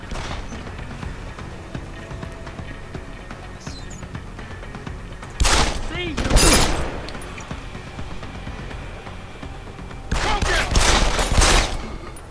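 Gunfire in Deus Ex: Human Revolution, two separate clusters of loud sharp shots cutting through a steady ambient game background, with no talking in between.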